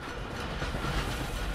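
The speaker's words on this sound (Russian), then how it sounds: "Тук-тук-тук-тук, метро на станцию Бабушкинская несется" A metro train in the video game Dishonored rushes along rails, giving a dense, steady rumbling roar with rattling wheel noise, loud and close for the whole short stretch.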